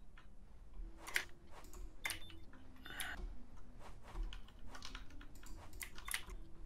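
Computer keyboard keys clatter in quick irregular bursts, close and fairly quiet, with no talking over the tapping.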